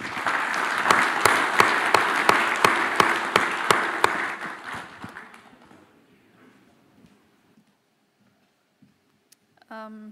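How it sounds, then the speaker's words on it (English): A round of applause for a panel at a banking and finance annual meeting, loud and dense hand claps with sharp regular peaks for about five seconds, then fading into a quiet room with a few scattered sounds. "will you please join me in a round of applause for our panelists?"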